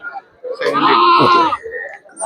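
Goats bleating at a temple festival in Point Pedro, with one long, loud, wavering bleat up close and shorter bleats and grunts around it.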